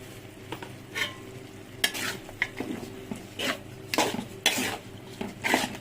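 Beef for biryani, salted and stirred as it fries in a pan. Steady sizzling runs under repeated scraping strokes and utensil clinks against the pot, close and fairly loud, with no voices.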